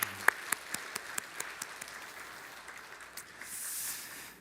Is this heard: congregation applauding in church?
yes